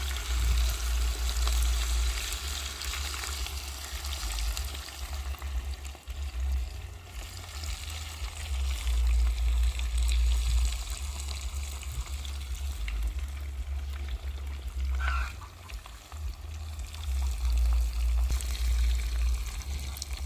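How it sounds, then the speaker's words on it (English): Red fish frying in hot oil makes a steady sizzle that fills the clip, a continuous crackling hiss with a low hum underneath and no talking. "You can see my fish is frying now."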